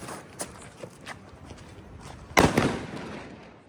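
A Diwali firecracker bursts with one loud, sharp crack partway through, its noisy tail ringing out over scattered outdoor rustling and a few smaller pops beforehand.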